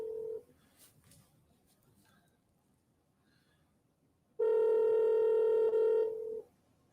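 Telephone call going unanswered: a short tone, a few faint key presses and quiet line noise, then a loud sustained ringback tone lasting about two seconds before cutting off.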